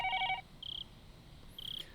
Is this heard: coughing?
no